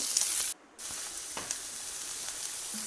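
Curry leaves sizzle in hot oil for a tempering, a steady close hiss of frying with a brief drop in level near the start, no voices.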